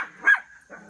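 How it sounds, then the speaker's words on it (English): A single short bark from a dog rises out of softer whining yelps, close by and fairly loud, with no one talking. "I've got 3 dogs right here that are causing me some problems right now."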